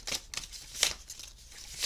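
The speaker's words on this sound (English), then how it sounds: "Actually, I don't know why I'm shuffling." Tarot cards being shuffled by hand, a quick series of soft papery riffles and flicks, close and quiet.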